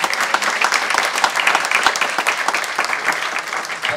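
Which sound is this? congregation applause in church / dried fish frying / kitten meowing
congregation applause in church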